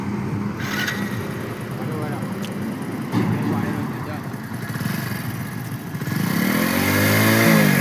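A motorcycle engine idles and revs as a learner rider is coached, a mid-pitched running engine that rises in pitch and loudness near the end, with people talking over it.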